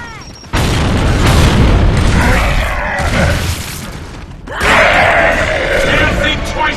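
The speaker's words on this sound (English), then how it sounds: "Incoming frag!" A frag grenade detonates in a Gears of War multiplayer match on the Anvil map, a loud booming blast with crashing debris and rumble, followed by a second swelling burst of game noise and effects.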